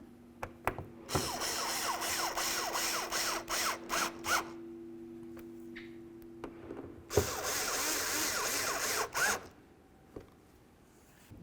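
Ratcheting and whirring of a tool snugging the mounting bolts of a 2006-2010 Ford Explorer high-mount third brake light, in several close bursts separated by brief pauses and clicks.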